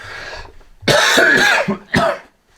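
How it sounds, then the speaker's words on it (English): A person coughs several times in quick, harsh bursts, close up, with a brief throat-clearing quality and short pauses between. "coughs."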